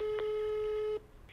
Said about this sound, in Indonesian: Kita telepon El Botuna ya.